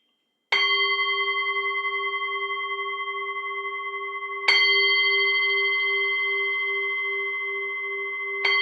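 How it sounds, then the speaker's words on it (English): A meditation bell is struck three times, each a clear, sustained, resonant tone that rings on and slowly decays, spaced about four seconds apart in an otherwise silent room. "So I'll ring the bell and we can get started."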